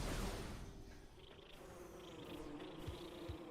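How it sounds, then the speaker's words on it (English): Faint, steady buzzing of a swarm of bees in the video game Metroid Prime Remastered, a thin insect drone running through the whole stretch beneath low background game noise. "there's a horrible infestation of bees or whatever"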